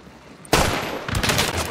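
A gunshot in Hunt: Showdown goes off as a loud, close blast after a quiet start, and a second burst of gunfire follows under a rumbling tail.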